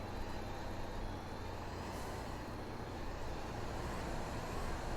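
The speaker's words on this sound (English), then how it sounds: "Engine sounds a bit strange of the rear vehicle there," A Tatra T-815 truck engine in the MudRunner video game rumbles as a steady, dense low drone with a constant roadway-like hum, fairly quiet and unbroken throughout.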